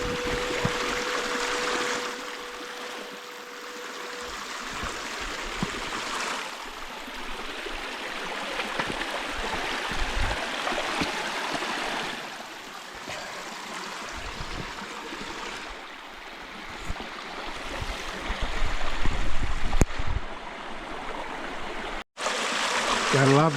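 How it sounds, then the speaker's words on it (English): A small waterfall pours over bedrock at a gold-prospecting spot, producing a steady, close rushing wash of water that runs the whole time with only slight swells in intensity. "Gotta love these waterfalls."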